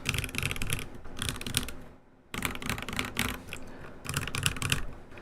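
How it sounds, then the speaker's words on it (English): Close, clacky typing on an NK65 mechanical keyboard fitted with Glorious Lynx switches comes in dense bursts of keystrokes, broken by one short pause. "I do like how the NK65 sounds with the Glorious Lynx switches"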